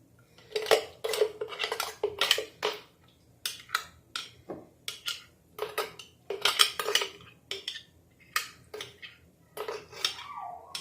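Ginger garlic paste scraped and tapped into an open bowl, with repeated clinks and scrapes of a spoon against the dish in irregular bursts, close and fairly loud, with no voices.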